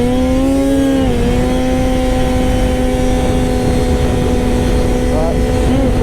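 A snowmobile cruises at steady speed, its engine droning loudly and continuously up close with a sustained mechanical whine that dips slightly once, wind and track rumble filling the background throughout.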